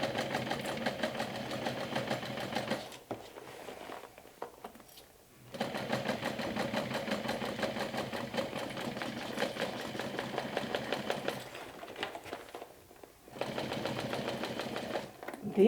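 A sewing machine works slowly through thick vinyl backpack layers with connectors. It runs in long, even, close bursts with a few short pauses between them.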